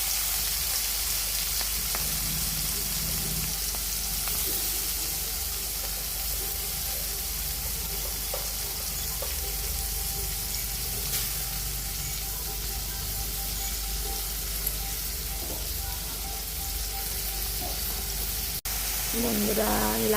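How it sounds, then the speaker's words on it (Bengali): Prawns fry in hot oil in a wok, a continuous crackling sizzle holding steady and fairly loud throughout, with a faint clink near the end and no talk. "চিংড়ি মাছগুলো ভেজে নেব।"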